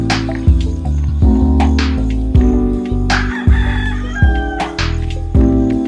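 Chickens clucking and a rooster crowing repeatedly inside a farm coop, loud and close, with overlapping calls throughout.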